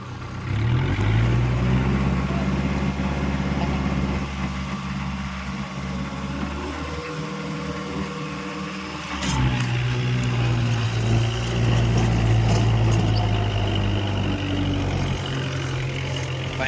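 A tractor engine runs steadily while pulling a rotavator through a field, a loud continuous diesel drone that dips briefly midway and then picks back up.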